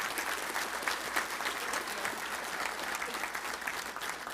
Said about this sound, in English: Only 4, which is worth a round of applause right there,